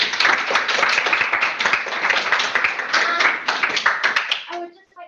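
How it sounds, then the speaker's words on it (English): Audience applause at an academic society's inaugural welfare and ethics meeting, a dense, sustained round of clapping that holds steady and then tapers off at the end. "Another round of applause for all of our speakers"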